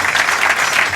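Arena crowd at a 1996 world racquetball championship men's final applauds steadily, a dense wash of clapping throughout.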